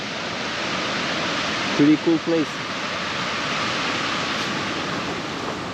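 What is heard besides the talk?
fast-flowing Danube river water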